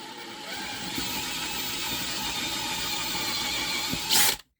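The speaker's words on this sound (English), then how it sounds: "this one is for drilling. So I want to do that first." A power drill whirs steadily for about four seconds with a slight rise in pitch near the end, then cuts off abruptly.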